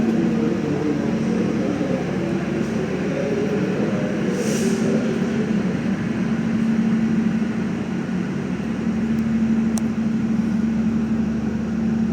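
Gumarang passenger train pulling out of Cirebon station at night, a steady loud rumble of wheels and engine drone with a constant low hum, continuous throughout without voices.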